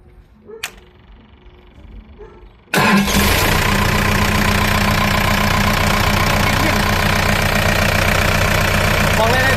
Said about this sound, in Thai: เดี๋ยวผมจะติดเครื่องให้ดู